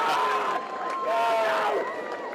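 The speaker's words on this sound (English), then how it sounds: "The crowd tells a story" A loud crowd roars and cheers at an Australian football match, round 4 of 2024 between the Pigeons and Magpies, with voices rising and falling across a dense, sustained swell.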